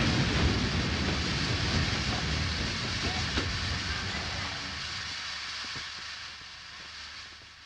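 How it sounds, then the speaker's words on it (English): A train rumbles into a station and slows to a stop, its heavy broadband roar gradually easing and thinning over several seconds, with faint clanks near the end. "What are you stopping my train for?"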